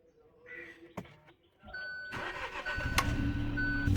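A Hyundai i20 N Line DCT cranks and fires up after a few faint clicks and a brief clunk, then settles into a steady, gradually louder idle as it warms up, close by and without talk.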